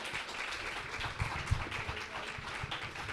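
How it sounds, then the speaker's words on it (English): An audience at a queer game-making panel applauds the speakers with a soft, dense patter of many hands clapping together, steady and fairly distant throughout. "please give a warm applause for our speakers"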